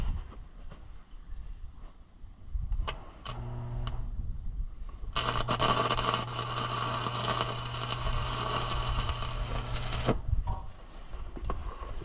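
A steady, harsh crackling buzz of stick welding runs for several seconds, with a few short sparking bursts before it and quieter hum around it.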